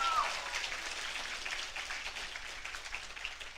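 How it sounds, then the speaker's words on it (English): Applause from a graduation ceremony audience, a steady wash of many hands clapping together at moderate distance, filling the short stretch evenly without a break. "give yourself a round of applause"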